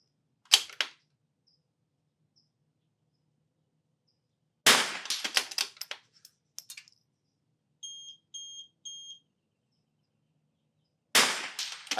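Gunfire on a shooting range during a timed competition stage, with a sharp shot, then a quick burst of several shots, a few short electronic timer beeps, and a final shot, separated by silence.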